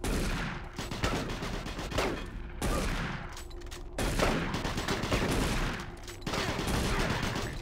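Rapid bursts of enemy gunfire in Doom 3, loud repeated volleys and machine-gun rattles cutting in and out in several sharp waves.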